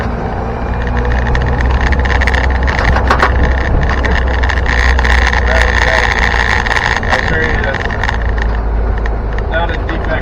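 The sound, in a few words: rattling of an overhauled Land Rover chassis while driving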